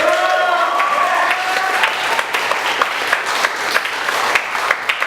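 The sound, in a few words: convention audience applauding Brian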